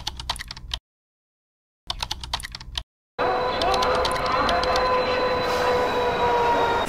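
Railway station ambience at Howrah station in Kolkata: after two short bursts separated by silence, a steady wash of train rumble and crowd noise fills the rest, with a thin high whine running through it.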